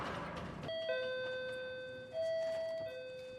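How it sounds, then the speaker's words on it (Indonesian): A doorbell chimes in a dramatized story scene, two sustained electronic ding-dong tones sounding one after another, clear and fairly loud with no talking. "tiba-tiba bel berbunyi"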